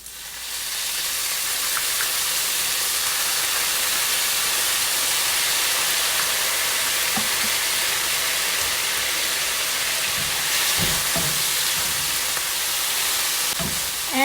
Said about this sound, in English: And into this I will add sauce that I have prepared.